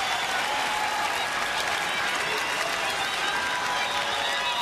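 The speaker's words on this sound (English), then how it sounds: "a spirited crowd is on its feet" A baseball crowd at a Kansas City at Houston game stands and cheers with steady applause after a foul ball, a dense continuous roar of clapping filling the whole stretch.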